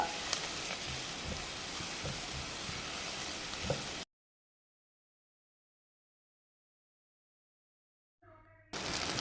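Ingredients sauté in a pan on a home stove while cooking a simple traditional Kerala dish, giving a dense steady sizzle for about four seconds, then a long silent gap before the frying noise returns briefly at the end.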